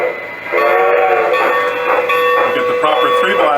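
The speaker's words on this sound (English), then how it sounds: "you get the proper 3 blasts of the whistle for reverse" Digital sound decoder in a model steam locomotive giving three whistle blasts for reversing, a bright tonal whistle sounding in three quick bursts over a soft chuffing hum, with someone speaking quietly.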